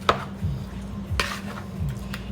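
A spoon stirs tomato juice into shrimp ceviche, giving a few light clinks and scrapes against a bowl or cup with soft wet swirling between them, close and brief, with no talking.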